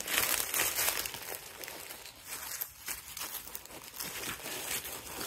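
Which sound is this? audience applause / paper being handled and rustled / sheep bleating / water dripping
paper being handled and rustled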